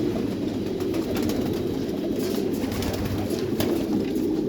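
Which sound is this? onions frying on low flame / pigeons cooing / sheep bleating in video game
pigeons cooing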